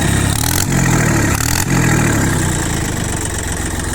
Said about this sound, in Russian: На газ трактор двигатель отзывается просто моментально.